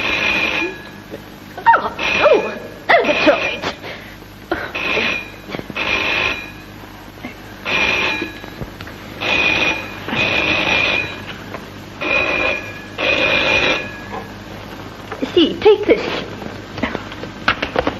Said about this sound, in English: Phone, Mum.